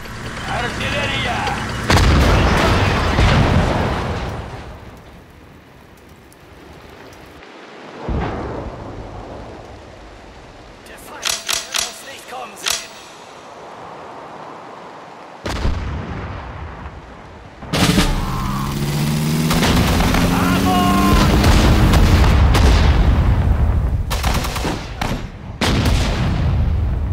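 Artillery fire in the World War II strategy game Sudden Strike 4 on a marshland skirmish map: heavy repeated booms and rumbling blasts with sustained roaring explosions, interspersed with short in-game voice callouts.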